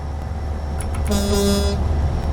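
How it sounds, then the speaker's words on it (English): In the game American Truck Simulator, over a steady Caterpillar C3176A engine rumble, a truck horn gives a single short, loud blast near the middle while passing under a bridge before the drone continues. "I should just check the horn as I go under this bridge"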